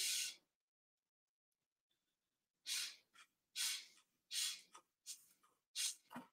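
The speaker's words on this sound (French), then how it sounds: "c'est pour ça qu'on appelle la respiration du soufflet parce qu'on entend comme le bruit qui sort." Forceful bhastrika (bellows) yoga breathing: a strong breath, a pause, then a series of rapid, loud, rhythmic puffs of air close to the mic.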